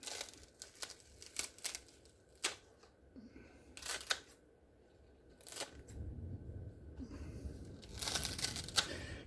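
Meat scissors snip through food in a kitchen, giving several sharp, separate clicks and crunchy cuts close by, with quiet handling noise between the snips.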